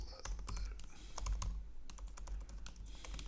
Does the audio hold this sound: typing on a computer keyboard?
yes